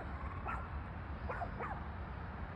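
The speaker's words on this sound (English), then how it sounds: "What is he barking at?" A dog barks outdoors at a house in Saint-Cesar-de-Bus, giving a single bark and then two quick barks, moderately distant over a steady background hiss.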